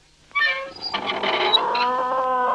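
A kitten mews in a cartoon scene, a single drawn-out, wavering cry that starts abruptly and carries on at close range, loud and clear with no talking over it.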